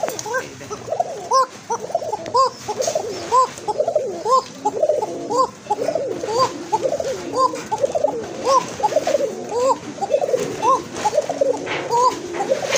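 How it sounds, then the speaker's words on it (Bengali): A pair of Kokka pigeons, one male and one female, coo close by. Their soft rolling calls repeat rhythmically and overlap, and a few faint background noises can be heard. "কবুতরগুলো কিন্তু এটা নর্মালি কিন্তু দুইটাই ডাকে।"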